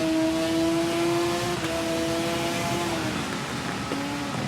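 Suter racing motorcycle in the TT Isle of Man racing game accelerating hard out of a chicane, its high engine whine climbing steadily through the gears with brief dips at upshifts, loud and continuous with no talk.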